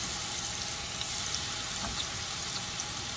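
Salmon sizzles in a hot frying pan, a constant bright crackling hiss with faint pops, steady throughout at moderate volume.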